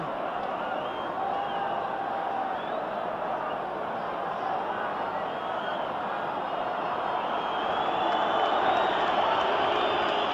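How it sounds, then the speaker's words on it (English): A football stadium crowd at a 1978 World Cup qualifier between Scotland and Czechoslovakia makes a steady, broad, far-off roar that swells slightly toward the end, with no distinct cheers or claps standing out. "Crowd a little irritated by that."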